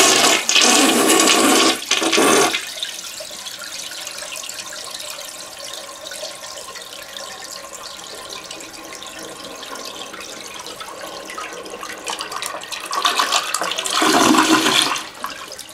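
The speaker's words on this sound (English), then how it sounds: "I'm going to be testing the natural buoyancy of a cork against the flushing power of a toilet" A household toilet flushes with a wine cork in the bowl, opening with a loud rushing surge of water, then a long, quieter trickle as the tank refills, and a second strong gush near the end.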